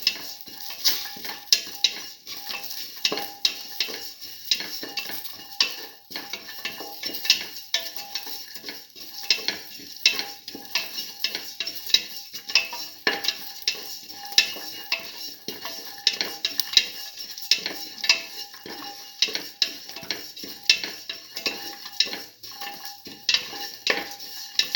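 Black lentil rice with green chillies and salt is sautéed in a pot: a continuous, fairly loud sizzle under repeated close spoon scrapes and clinks against the metal, with no voices.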